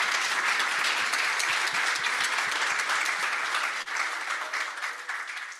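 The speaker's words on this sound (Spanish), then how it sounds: "Un gran aplauso." A large audience claps after a presentation at a course on chemicals in tunnel construction, dense sustained applause filling the room and tapering off near the end.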